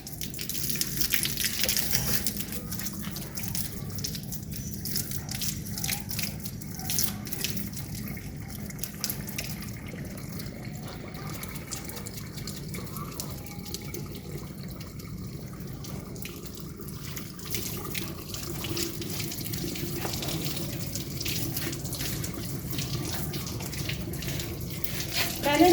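A tap opened in a home courtyard runs steadily with water splashing throughout, a soft continuous gush at moderate distance with faint background activity.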